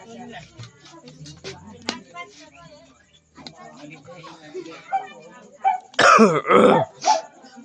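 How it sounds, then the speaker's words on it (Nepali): A person talks, then harsh, close throat clearing and coughing burst out loudly near the end, several rough hacks in quick succession. "खोकीले फेरि कहिले छोडेन"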